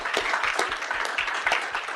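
Audience applause at a university honors college spring conference: steady, fairly loud clapping from many hands, continuous throughout the brief stretch.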